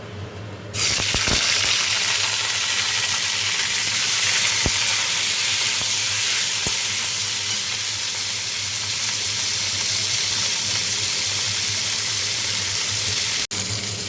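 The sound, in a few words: cauliflower frying in a pan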